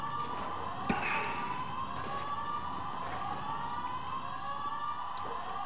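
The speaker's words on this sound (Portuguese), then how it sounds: "Esta sirene irrita-me." A wailing emergency siren sounds continuously in GTA 5 Online during The Doomsday Heist, sweeping steadily up and down at moderate loudness with a few faint clicks beneath it.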